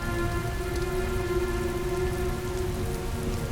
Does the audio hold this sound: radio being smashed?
no